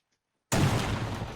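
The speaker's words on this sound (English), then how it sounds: "An additional breaching charge over here" After half a second of silence, a breaching charge in ArmA 3 goes off with a sudden, loud, close blast, then a rumbling roar that slowly fades.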